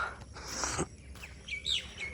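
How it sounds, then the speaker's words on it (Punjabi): Several birds chirp and tweet in short, high calls among village fields, fairly faint and scattered, with no talking. "ਇੱਧਰ ਪੰਛੀ ਬੋਲਦੇ ਆ"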